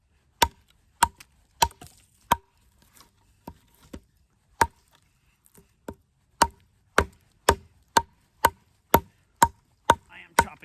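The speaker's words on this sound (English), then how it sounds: "I am chopping right into a knot right there." Work Tuff Gear Drengr modern seax knife chopping into a wood knot, sharp distinct strikes in an irregular series that turns into a steady rapid rhythm, loud and close, with no talking.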